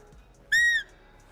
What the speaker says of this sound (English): Yeah, I can hear birds down there